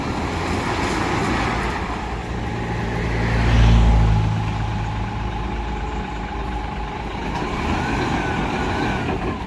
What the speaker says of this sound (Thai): รถไถลงครับ มันจะมาได้ไหม